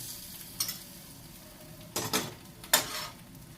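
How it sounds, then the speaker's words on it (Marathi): Hot phodni tempering poured onto chutney, a soft background sizzle punctuated by a few sharp bursts of hissing and clinks of a spoon against the pan, close and fairly quiet. "ही फोडणी आता आपण या चटणीवरती टाकूया"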